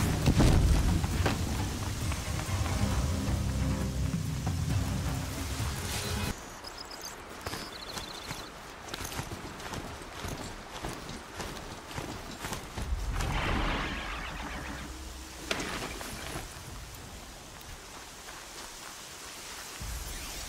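Rain falls steadily in the video game Horizon Zero Dawn, a dense hissing wash that shifts in intensity with scattered footstep-like patter and other game sounds layered over it.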